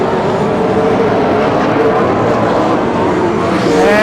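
Dirt track race cars roaring around the Bakersfield oval during a Budweiser Racing Series Dirt Track Nationals event, a loud continuous wall of engine noise with cars passing close and no voices.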